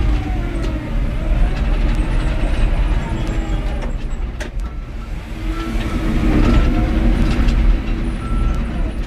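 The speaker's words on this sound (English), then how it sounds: "Dozer runs out pretty good" A 2014 John Deere 750K LGP dozer runs close by on dusty Texas ground, its engine holding a deep, steady rumble with some rattling and clanking on top. No one speaks.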